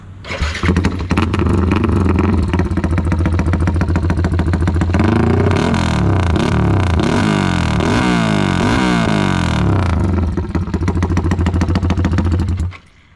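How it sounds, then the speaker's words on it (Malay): A motorcycle engine with a straight-flow exhaust and no muffler roars loudly, revving repeatedly in sharp bursts before cutting off abruptly. "Bunyi dia memang gila sebab exhaust ni dia tak ada tabung"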